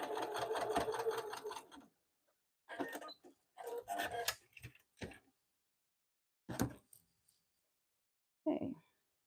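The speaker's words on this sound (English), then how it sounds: "Sew this down at 1/8 of an inch." A sewing machine runs in short bursts while stitching a zipper pouch 1/8 inch from the edge, opening with a sustained run and then stopping and starting in brief separated spurts, close and fairly quiet.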